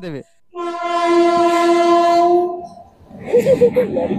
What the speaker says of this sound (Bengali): দেখা যাক এটা কোন দিকে ট্রেন যাচ্ছে।